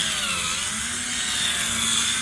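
A power drill grinds and whirs steadily as it hollows out plaster, a close, continuous buzzing hum with a slightly rising pitch.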